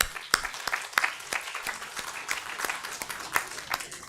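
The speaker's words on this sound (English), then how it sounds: "Can we have a round of applause for a wonderful audience?" Workshop audience applauding, a lively burst of many hands clapping with sharp individual claps standing out, steady and fairly close for several seconds.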